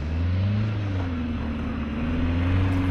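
A mini truck engine holds high revs while drifting in snow, a steady loud drone with a slowly shifting pitch and no talking over it.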